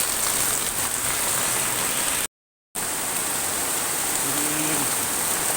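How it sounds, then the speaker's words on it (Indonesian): Heavy rain pours steadily in a village street on the Sangihe Islands, a dense continuous hiss that stays loud and even throughout, with no voices. "dan ini masih hujan deras"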